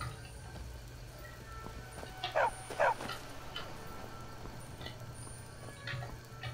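A dog in Skyrim gives two short, sharp barks in quick succession, moderately close, over steady game ambience and a low hum.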